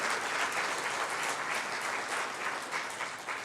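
A church congregation applauding together, a dense continuous patter of many hands clapping at moderate distance that holds steady and then eases slightly toward the end.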